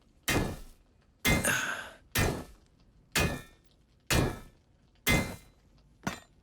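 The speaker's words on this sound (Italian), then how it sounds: "Ha dato 10 martellate, tipo." Heavy hammer blows in the video game Baldur's Gate 3, seven loud, evenly spaced impacts about a second apart, each a sharp thud with a ringing, rumbling tail, alone without talk.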